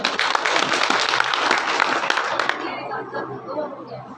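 Villagers gathered at an outdoor tree-birthday event in Gogana Dham break into loud, sustained applause that holds steady, then cuts off, leaving quieter background noise.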